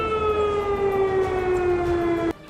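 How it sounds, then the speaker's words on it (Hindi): A warning siren sounds during an air raid bombing alert, holding a loud, steady wailing tone that drifts slightly lower before cutting off abruptly near the end. "धमाका होते ही खतरे का सायरन बजाकर लोगों को अलर्ट कर दिया गया।"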